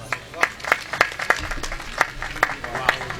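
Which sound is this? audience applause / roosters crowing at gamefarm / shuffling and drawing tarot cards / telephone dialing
audience applause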